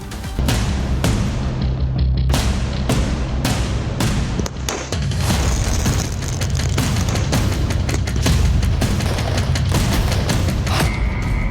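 Firecrackers bursting during Diwali celebrations in Ayodhya give a dense run of loud, sharp cracks and booms, dozens of them in an irregular fast rhythm over a crackling background. No one speaks.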